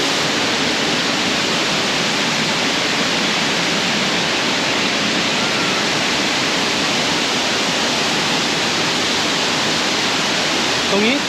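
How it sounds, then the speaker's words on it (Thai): Mae Sa Waterfall pours steadily into the pool below, a loud, close, unbroken roar of falling water that fills the whole stretch without a pause. "น้ำลงมาน้ำตกลงมาที่ด้านล่างเลยทำให้รู้สึกเย็นสบายเลยตรงนี้"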